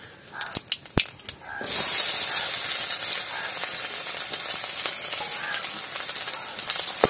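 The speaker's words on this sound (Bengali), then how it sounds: "পেঁয়াজটা ভাজা ভাজা হবে লাল করে" Onions frying in hot oil in a wok with dried chilli and nigella seeds, opening with a few sharp clicks before a loud, dense sizzle bursts in and settles into steady crackling frying, nearby and continuous.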